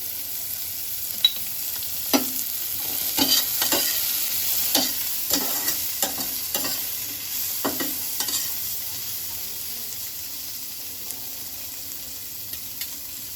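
Green chillies tossed into hot oil and stirred in a home-kitchen pan, a steady low sizzle broken by a series of sharp scraping clicks from the spatula over about ten seconds, with no talking.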